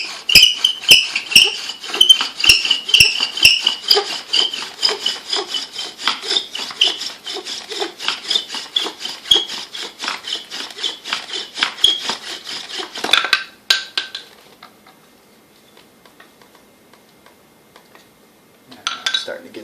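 A bow drill spindle grinds rhythmically in a two-stick wooden fireboard, a fast, close, scratchy back-and-forth rasp for about thirteen seconds, then quiet with a brief final scrape.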